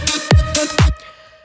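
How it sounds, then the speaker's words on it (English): Sampled vocal chops in an electronic dance drop, processed to match it: short, loud, gated stabs over heavy kicks, then a thin held tone that fades. "I try to use the original sample and then try to use some processing to match the drop."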